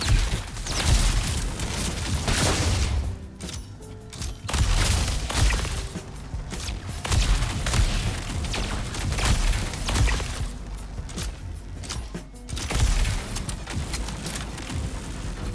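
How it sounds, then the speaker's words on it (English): In Star Citizen, a cargo container blows up after an NPC shoots it: a dense, loud run of booms, cracks and gunfire-like bursts with rumbling debris, several sharp peaks over about fifteen seconds. "Pay attention, this NPC deliberately shoots the container right in front of me,"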